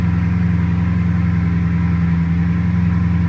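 Bugatti Chiron Sport with a matte black carbon body running in a showroom, its deep engine note steady and loud at close range with no voices over it.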